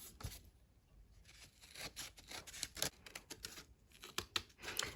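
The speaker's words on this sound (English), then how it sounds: "we're going to get a pair of scissors and we're going to just trim around this edge" Scissors snip and trim around the edge of a piece of cardboard, a close series of irregular crisp cuts and scraping rustles.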